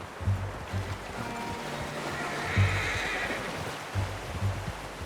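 A horse in Red Dead Redemption 2 gives a loud, near neigh and several shorter snorting whinnies, with hoof clip-clops and a low flowing water-like ambience in the background.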